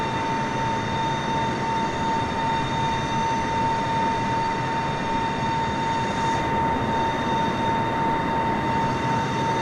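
A steady, loud aircraft engine drone from a plane cruising in Microsoft Flight Simulator on PC, continuous and unchanging throughout with a faint high whine above it.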